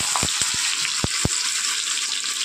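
Cut potatoes hit hot oil spiced with whole cumin, dried red chilli and bay leaf for cholar dal, making a loud, continuous close sizzle with a few sharp pops and crackles.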